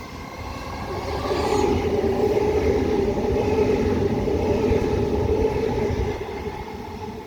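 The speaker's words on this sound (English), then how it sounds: "We have an Oscar passing platform number 1," An Oscar H-set passenger train rumbles past a station platform at Denistone, a loud, steady roar of wheels and carriages that swells in and holds near for several seconds before easing slightly.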